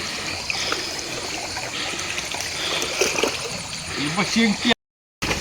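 Shallow stream water gurgles and trickles steadily nearby while people wade through it catching crabs, with voices talking over the flow and a brief dropout near the end.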